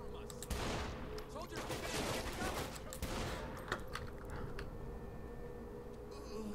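Rapid bursts of gunfire from shooting enemies in Saints Row The Third, dense and continuous across the clip with sharp cracks layered over a busy game soundscape.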